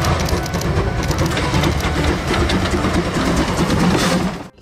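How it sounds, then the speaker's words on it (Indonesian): A toy Thomas the Tank Engine train whirs and rattles continuously, close and loud like a small motor clattering along its track, fading out at the very end without any voices. "lihat teman-teman, ada kereta Thomas"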